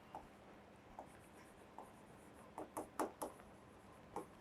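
Chalk tapping and scratching on a board in an organic chemistry class, faint scribbles first, then a burst of sharp, closely spaced clicks and strokes near the end.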